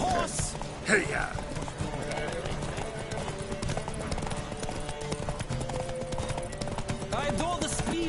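Horse galloping in a race in The Witcher 3, rapid clip-clop hoofbeats running steadily throughout, with occasional whinnies, game music and riders' voices over the top.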